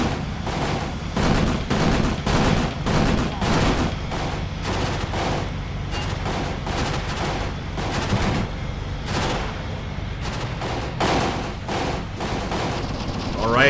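Sustained gunfire rattles through a war video game battle set at Cuito Cuanavale, with dense, repeated bursts of rifle and machine-gun fire and distant booms, loud and continuous for the whole stretch, with speech mixed in underneath.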